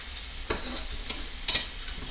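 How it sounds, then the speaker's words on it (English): Food frying in a pan, sizzling steadily and close by, with a few sharper crackles and bursts of stirring over the continuous hiss. "Hey, we got a sizzle."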